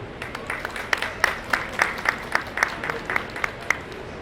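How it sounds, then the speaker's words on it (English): Sparse, rhythmic clapping from an audience at a COP30 energy event, individual claps distinct and moderately close, building a steady beat rather than a dense roar, with faint voices underneath. "Please join me in welcoming him with a big round of applause."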